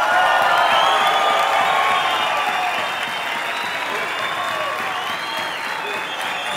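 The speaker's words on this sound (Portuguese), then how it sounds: "Uma salva de palmas pra ela." A crowd applauds warmly and continuously, with scattered cheers and whoops, gradually easing slightly toward the end.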